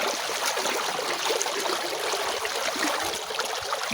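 Clean river water flowing steadily after weeks of rain, a continuous broadband rush and trickle with no voices, close and even throughout.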